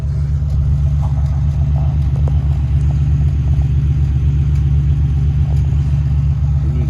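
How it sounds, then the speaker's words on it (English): A 1971 Jeep CJ5 with a V6 engine idles steadily close by, a loud, even low rumble that holds without revving for the whole stretch. "Can you hear that? The engine purring."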